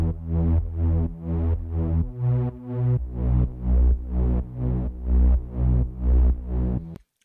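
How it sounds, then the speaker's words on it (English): A Serum-made Reese bass synth with saturation and kickstart ducking plays gritty, sustained low notes that pulse in a steady rhythmic pattern, loud and alone, before cutting off abruptly at the end. "this is a Reese bass, and it has some kickstart and some saturation on it."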